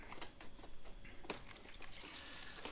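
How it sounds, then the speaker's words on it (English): Water poured over dry pasta in a baking dish, a close, quiet splashing trickle with small bursts and gurgles that continues steadily throughout. "I'm just going to cover it with water good."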